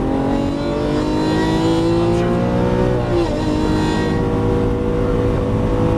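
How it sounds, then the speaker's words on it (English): Lamborghini Aventador LP700-4 pulling out of a turn at full throttle, its loud, close engine roaring steadily with rising harmonic pitch and a brief shift dip midway, no voices. "Now we're going to accelerate out. Accelerate full throttle out to the left."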